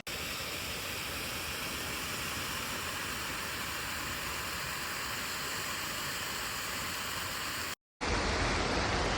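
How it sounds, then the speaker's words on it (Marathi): A cold-water stream flows beside a hot spring pool in rural Konkan during the monsoon, making a steady broadband rush of water that holds evenly before a brief dropout and a louder, harsher burst at the end. "इकडे समोर जो झरा वाहतोय हा गार पाण्याचा झरा आहे"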